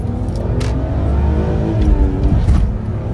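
A manual BMW E46 330ci's engine revs up and settles during a heel-toe downshift on the road, loud and close, with a steady droning engine note rising and falling over a few seconds.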